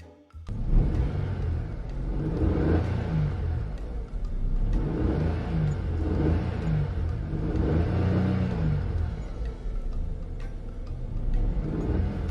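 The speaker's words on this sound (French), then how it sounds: "appuie doucement sur l'accélérateur" A car engine revs repeatedly in long swells as the driver presses the accelerator to free the car from mud, loud and close with a steady rumbling whir throughout.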